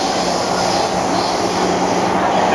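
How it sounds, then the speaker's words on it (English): Inside a moving Singapore metro train, a loud continuous rumble and hiss of wheels on rails fills the car, steady and close with no talking. "We're on the metro right now"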